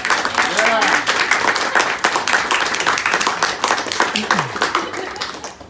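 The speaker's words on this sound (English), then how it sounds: "I'd love for everybody to give her a round of applause" A room full of people applauds loudly and continuously, with scattered cheers and voices mixed into the clapping.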